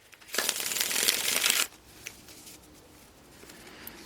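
A deck of tarot cards is riffled once in a quick, crisp burst up close, followed by quiet with a few soft card taps.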